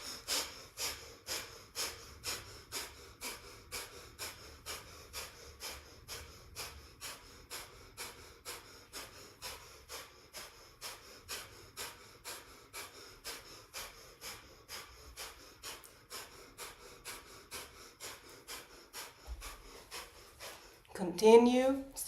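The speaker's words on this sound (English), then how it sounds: "let's do breath of fire with this one" Breath of fire, a yoga breathing exercise: a long run of rapid, even, forceful nasal exhalations, close and steady. Near the end a voice speaks.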